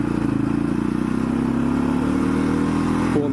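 A clutch-equipped quad bike engine revs steadily up close, its low throbbing note rising slightly as it pulls away in gear, ending with a brief clunk of a shift.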